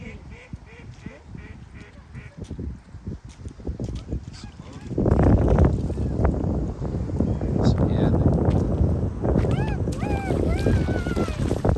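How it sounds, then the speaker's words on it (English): Ducks honk and call nearby while a person talks, then a loud rush of wind or water noise swells and continues under the calls. "Ducks."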